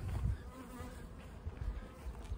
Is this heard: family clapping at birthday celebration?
no